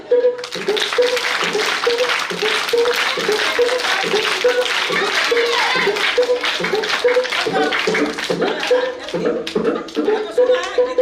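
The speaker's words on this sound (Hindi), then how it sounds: "ताली मारो" Group clapping in steady rhythm at a traditional tribal Ghudka music workshop, loud and close, with voices singing and chatting over the repeated claps throughout.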